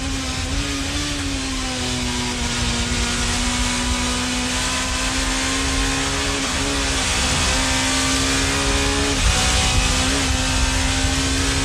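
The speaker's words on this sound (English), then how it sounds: "Julian Bailey's Toyota, a new right-hand drive car with a brand new roll cage." 1990s British touring cars racing on a circuit, including a Toyota, a loud steady engine drone with shifting pitch and a car passing near the middle, continuous and close.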